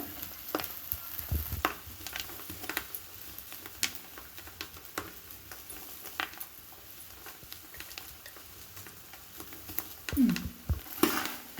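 Flattened rice or puffed rice snacks stirred and dry-roasted in a frying pan, with scraping strokes and light sizzle and patter throughout, and a louder stir of the pan near the end.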